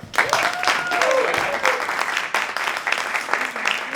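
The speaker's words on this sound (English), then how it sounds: "One more round of applause for the show" A theater audience claps for a performance of Sartre's No Exit, loud, dense applause filling the room with a steady roar of hands and a few voices rising through it.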